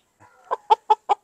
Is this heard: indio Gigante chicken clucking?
yes